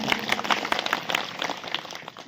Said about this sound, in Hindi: एक बार सांसद साहब के लिए आप जोरदार ताली बजाएं